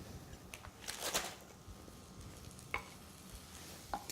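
Bell peppers cooking in sesame oil in a wok give a faint, quiet sizzle, broken by a few light scrapes and taps of stirring.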